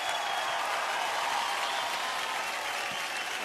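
A studio audience on a singing competition show gives a band a broad, sustained round of applause, an even wash of many clapping hands heard alone and slightly distant.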